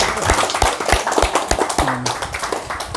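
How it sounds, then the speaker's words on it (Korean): A small audience at a Korean Buddhist Seon meditation talk claps in scattered, uneven hand claps. The claps are fairly close, with a brief voice in the middle. "박수 한번 칩시다."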